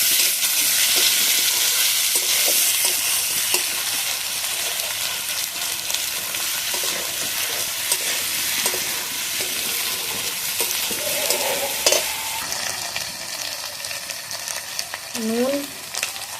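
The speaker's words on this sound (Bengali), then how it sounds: "এতেই দিয়ে দেবো কেটে রাখা টমেটো। এখনকার টমেটো শক্ত, তেলেগুলো ভেজে নিতে হয়।" Chopped tomatoes fry in hot oil in a pan with a loud, hissing sizzle that eases slightly over time, with occasional stirring clatter and a brief squeak near the end.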